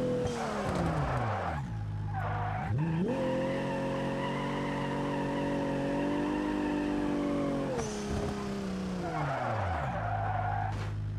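Car tires skidding and squealing under locked brakes in BeamNG during night-time city traffic, a loud sustained screech that slides down in pitch over engine drone, fading out then returning in several long bursts.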